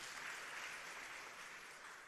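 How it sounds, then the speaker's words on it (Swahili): Crowd clapping at a political rally addressed by Kenya's president, a dense, continuous patter of applause heard faint and distant, steady for about two seconds with no voices. "Mchipikieni makofi kabisa"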